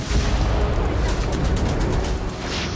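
A drone blast over high-rise buildings in Tel Aviv comes as a loud, close, continuous rumbling roar that holds for the whole stretch, dense and booming without a clear single hit.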